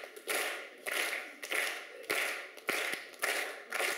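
Crowd at a limbo contest clapping along in a steady rhythm, a run of broad claps repeating about every half second, loud and near, with no talking.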